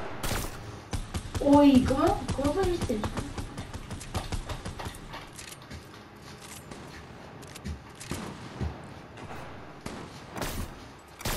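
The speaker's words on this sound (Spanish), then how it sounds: "Sí, nos están disparando." Rapid gunfire pops and bursts crackle in an online shooter game, mostly soft and scattered with a few sharper shots, while players talk over it.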